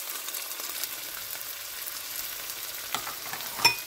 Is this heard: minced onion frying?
yes